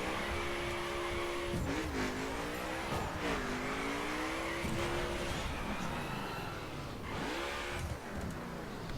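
A McLaren 12C in the racing game The Crew drives with a steady, loud engine drone, its revs rising and falling through gear shifts, with occasional tire squeal and skidding.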